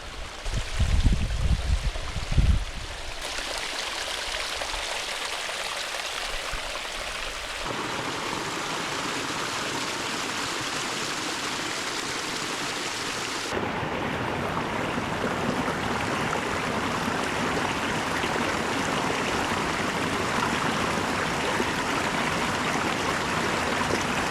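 Continuous rushing water from a creek, a steady broadband wash with shifting intensity and no voices.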